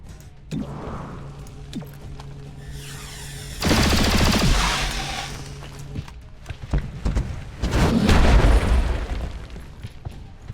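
Weapon fire in the XCOM: Chimera Squad video game, with sharp bursts and booms followed by two longer, loud roaring blasts of gunfire and impact that echo out, with no talk.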